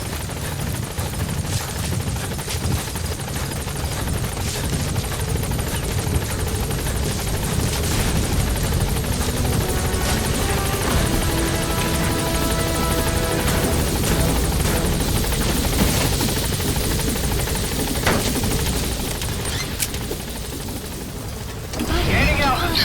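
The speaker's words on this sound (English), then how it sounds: "Support helicopter has arrived." The support helicopter in the video game Metal Gear Solid V arrives with loud, continuous rotor thumping and engine roar that stays close and steady.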